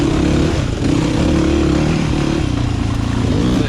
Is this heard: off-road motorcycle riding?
yes